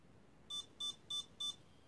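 Four brief electronic tones from an electronic speed controller in programming mode repeat at a steady pace, crisp and nearby, with faint background noise between them.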